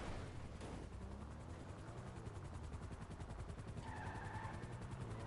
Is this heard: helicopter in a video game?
yes